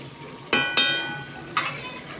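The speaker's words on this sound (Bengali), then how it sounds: "দিয়ে এবার এটাকে নাড়িয়ে কিছুক্ষণ ফুটিয়ে নেব ভালো করে।" Fried fish curry being stirred and simmered in a pan at a picnic, with three sharp utensil clinks against the pan over a low steady bubbling background.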